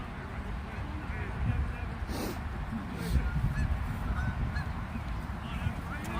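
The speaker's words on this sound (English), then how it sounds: "There's some geese trying to get in the game there." Geese honk at moderate distance beside a youth soccer match, in a few scattered calls over a constant wash of outdoor field noise and wind.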